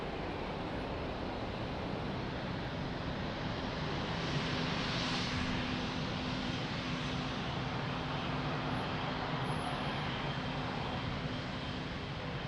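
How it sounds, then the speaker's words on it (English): A jet airliner lands at Lisbon Airport, its engines and airflow making a steady, dense roar that holds evenly throughout, moderately distant, with no voices over it. "Beautiful landing."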